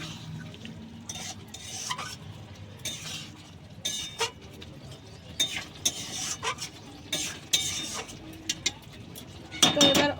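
Fried prawns stirred into gravy in a pan, with repeated spoon scrapes and metallic clinks over a soft bubbling sizzle, one louder clatter near the end.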